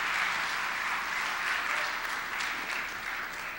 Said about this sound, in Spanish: Vamos a darles un aplauso también